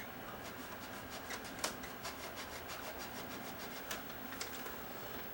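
A cotton swab scrapes dirt off the upper head drum of an old VCR, producing a faint, continuous dry rubbing with light rhythmic scratches and no talking.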